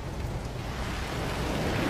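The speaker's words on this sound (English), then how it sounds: "the rain looked truly poetic" Heavy monsoon rain heard from inside a car: a loud, dense, unbroken hiss and patter that holds steady throughout with no voices.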